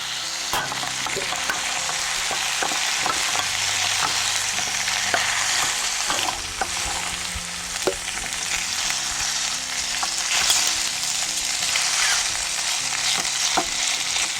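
Chunks of beef fat rendering into tallow in a pot, a bright continuous sizzle and bubbling with occasional stirring scrapes and clicks, close and steady, with no speech.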